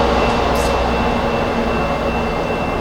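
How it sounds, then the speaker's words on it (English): A commuter train heading into Boston rumbles steadily past at close range, a continuous low roar with a faint high tone across the whole stretch and no talking. "you can see the train is passing by, 5 o'clock train,"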